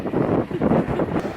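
Steady wind buffets a microphone outdoors on the Gold Coast during a road trip, giving a loud, continuous low rumble with no talk.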